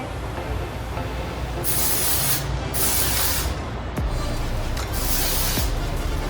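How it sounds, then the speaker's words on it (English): A can of texturizing hair spray hisses onto hair in three bursts, each about a second long, loud and close over a steady background hiss, with no talking. "So spray that in."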